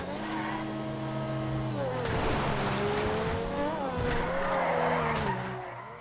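A Grotti X80 Proto supercar in GTA, modelled on the Ferrari F80, drives along country roads with a loud, steady engine note, rising and falling with gear shifts, while its tires squeal in repeated bursts through corners.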